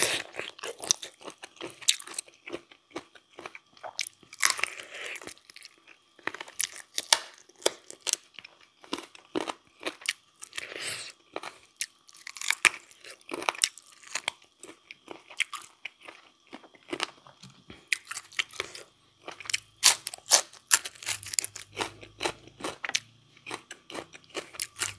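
Crunchy bites of large chicken feet in a spicy Thai pounded salad topped with lead tree seeds, eaten indoors; loud, close, irregular crunching and chewing bursts with bone snaps, continuing throughout with no talk.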